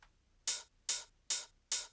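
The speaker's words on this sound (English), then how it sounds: "what we usually place on the offbeat to accentuate it is an open hat" Four evenly spaced open hi-hat hits in a psytrance groove, bright and sizzling, each ringing briefly before the next in a steady offbeat pulse.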